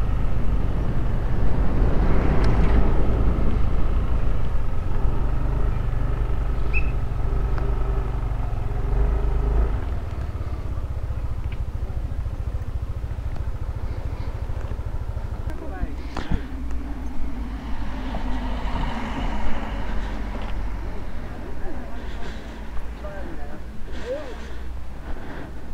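Motorcycles on a mountain ride near Sagada rumble past with a loud engine drone that rises, shifts pitch and fades, wind and road noise throughout.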